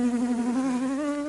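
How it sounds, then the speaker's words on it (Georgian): A fly buzzes steadily and close by, one continuous droning hum with a slightly wavering pitch and no pauses, with nothing else heard over it. "რაღაცა ბუზის ხმა მესმის."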